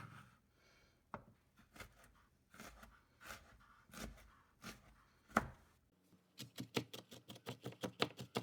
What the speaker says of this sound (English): Got our lemons peeled, so what we're going to do is we're just going to chop up.